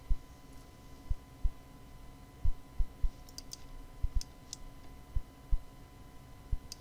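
Computer mouse clicking at a desk, a dozen or so sharp, close clicks at irregular intervals over a faint steady electrical hum, with no talking.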